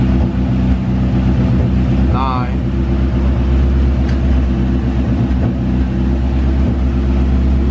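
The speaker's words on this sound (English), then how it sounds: "It's idling smooth." A Honda H22 car engine, its vacuum leak fixed, idles with a steady, even low hum throughout while a person talks over it.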